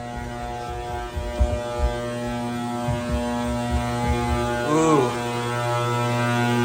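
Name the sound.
12 kW metal halide lamp running loudly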